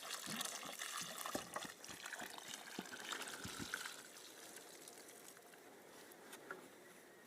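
About 10 litres of water is poured onto a pepino plant in an open-ground garden bed during hot weather, a steady close trickle and patter that softens in the second half, with no talk.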